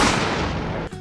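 A single sharp gunshot from an Attack on Titan anime scene, loud and close, its blast filling the clip before cutting off abruptly, with no voices.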